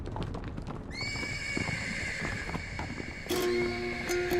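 A horse in Kyrgyzstan gives a loud, close, high whinny while its hooves clip-clop in a steady rhythm beneath it, with no voices.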